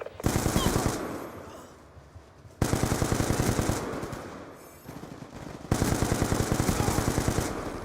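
Sustained automatic gunfire from a Call of Duty video game, loud and rapid, in three long bursts separated by short gaps, with quieter game noise between.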